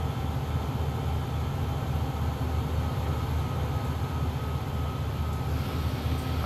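A heavy locomotive in Train Sim World 2 rumbles with a dense, steady low drone and rolling rail noise, gradually building under power with no voices.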